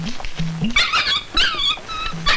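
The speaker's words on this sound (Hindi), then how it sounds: "बहुत अच्छा कुत्ता है।" A dog in a Hindi film scene growls and whimpers in several short bursts, with low rumbling growls alternating with higher yips and whines, fairly close and moderately loud.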